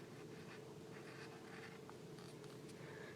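Handwriting a math step with a pen or pencil on paper, faint light scratching strokes over a steady background hum.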